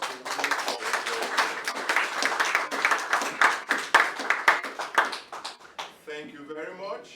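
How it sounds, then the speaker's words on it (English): Dense clapping from an audience at a talk, a steady patter of many hands that thins out toward the end as a voice starts speaking. "Can we give a round of applause to"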